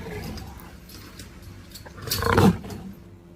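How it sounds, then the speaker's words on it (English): A lion gives a single loud, rough roar that swells to a peak and then fades out. "L is for lion."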